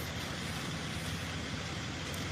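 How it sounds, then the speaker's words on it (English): Buses roll by on a road near the US Capitol, a soft steady traffic rumble of engines and tires at moderate distance, with no voices. "And then we got these really weird buses right here."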